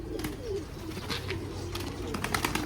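A pigeon coos softly over a low background rumble, with a few short clicks and flutters scattered throughout.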